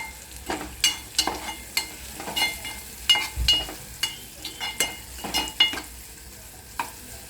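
Green chilies stirred into a hot tempering for dal give a low sizzle under a steady run of spatula scrapes and taps against the pan.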